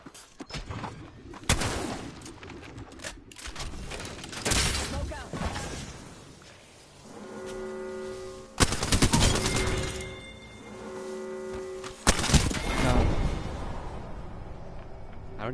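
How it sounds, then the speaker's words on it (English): Shotgun blasts in the video game Apex Legends, loud broadband bursts at irregular intervals amid a busy mix of game effects, tonal interface sounds and voices talking. "It's the shotgun."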